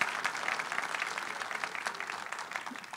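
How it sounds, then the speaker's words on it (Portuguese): Applause for the organiser of a lecture event, an audience clapping steadily at moderate distance throughout with a dense, even patter. "Eu peço uma salva de palmas para ela."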